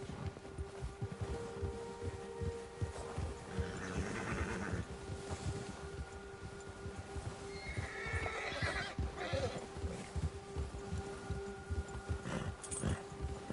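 A horse in a video game whinnies and clip-clops along a trail: hooves beat in steady rhythm throughout, with neighs breaking through over faint wind.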